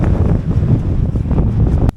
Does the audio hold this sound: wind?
yes